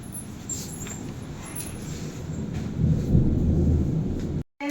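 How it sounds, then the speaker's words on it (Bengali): Thunder rumbling low during heavy night rain, a broad steady roar that swells louder toward the end before cutting off abruptly. "মেঘ ডাকছে"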